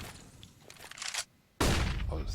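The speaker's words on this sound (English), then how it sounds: "Oh, so many flashbangs for OG." Counter-Strike match on the Dust2 map, with flashbang pops and a burst of gunfire: a quiet stretch of faint game noise, then a sudden loud sustained volley of shots at the end.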